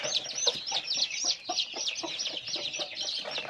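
A chorus of hens and chicks clucking and chirping continuously as chicks are caught and separated, close by, with busy overlapping calls throughout.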